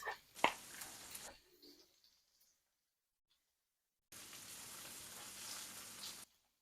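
Onions and mushrooms fry alongside steak in a hot pan, giving a bright steady sizzle close by, first in a short burst with a clatter and then in a longer stretch after a silent gap.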